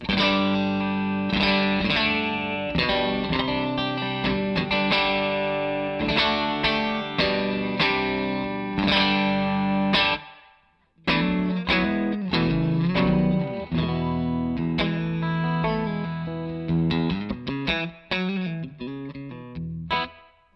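Heavily distorted electric guitar through a Thorpy FX Fat General fuzz pedal plays chords and riffs with a thick fuzz tone, loud and continuous, with a brief pause midway.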